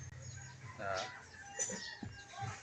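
A hen clucks a few times after laying an egg, fairly faint, in short uneven bursts with small scratchy noises and quiet background between calls.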